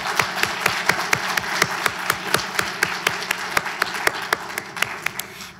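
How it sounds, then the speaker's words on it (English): A crowd applauds steadily at a middle school spelling bee, the claps landing in a regular, rhythmic beat like people clapping together, sustained and fairly close. "Let's clap for them,"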